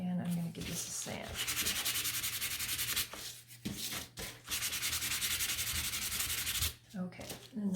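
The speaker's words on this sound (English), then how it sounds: "And I'm gonna give this a sand." Hand sanding of a wooden Easter fence, long back-and-forth rasping strokes with brief pauses between them, close and alone.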